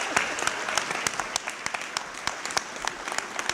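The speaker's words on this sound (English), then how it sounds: "Let's give him a round of applause" Applause from an audience at a school opening ceremony in Buffalo, steady continuous clapping with scattered sharper claps, moderately distant and filling the room.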